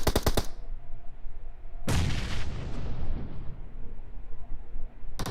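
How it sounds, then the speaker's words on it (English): A rapid volley of gunfire from a video game tournament match, then a loud, close grenade blast that rumbles and slowly decays, ending with another short burst of shots. "Those nades are close, but just not quite far enough."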